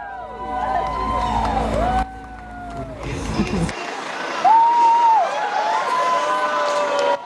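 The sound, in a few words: crowd of well-wishers cheering departing crew at Baikonur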